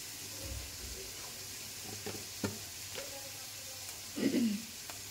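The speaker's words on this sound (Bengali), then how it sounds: "লঙ্কা, শুকনো লঙ্কা, তেজপাতাটা একটু ভেজে নিলাম" Green chilies, dried red chilies and a bay leaf fry in oil with a steady low sizzle, broken by a few stirring scrapes and a louder spatula clatter near the end.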